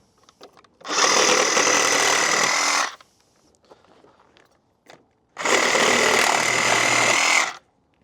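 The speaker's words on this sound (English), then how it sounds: "I'm going to use my saw here to cut it up" A power saw cutting through PVC pipe, two loud, steady buzzing bursts of about two seconds each separated by a few seconds of quiet handling noises, close by with no talking.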